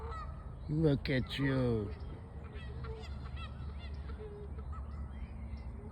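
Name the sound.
geese honking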